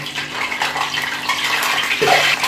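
Water runs steadily from a kitchen tap while kadhi pakora is prepared. The hissing flow is close and fairly loud and continues without pause throughout.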